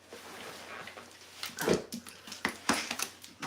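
A dog whimpers and yips while being picked up, a few short whiny bursts close by over low background noise.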